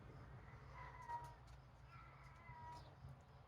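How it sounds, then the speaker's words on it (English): Hungry cats meow faintly, two brief plaintive calls about a second apart with a quiet hum underneath. "Cats are meowing. Looks like they're hungry."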